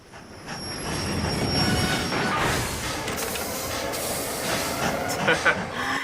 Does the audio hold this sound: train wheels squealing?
yes